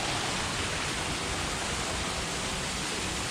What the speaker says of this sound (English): The only waterfall I've seen in Japan so far.